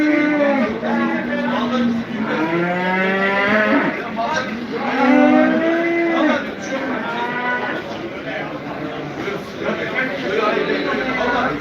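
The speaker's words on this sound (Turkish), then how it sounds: "Bu da canlı 400 kilo civarında. Akbaş kurbanlık dana." An Akbaş sacrificial calf of around 400 kg at the Bolu livestock market moos loudly several times, close by, while people talk in the background.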